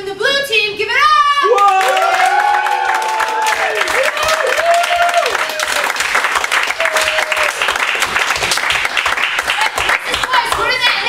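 A live improv comedy audience breaks into loud applause and cheering for the blue team, with whoops and shouts over dense clapping and a voice briefly speaking near the start.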